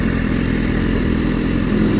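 A motorcycle engine runs close by with a steady, loud, rumbling drone and mechanical clatter, holding a constant pitch with a slight swell near the end and no voices.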